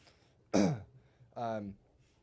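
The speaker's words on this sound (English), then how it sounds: "I'm coughing pretty good right now" Two short, rough coughs from a cannabis smoker close to the microphone, separated by a brief pause, in an otherwise quiet room.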